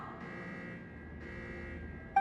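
An alarm sounds in the video game Genshin Impact, a steady electronic buzzing tone that repeats in two long pulses at a constant level, loud and alone, with a brief click at the end.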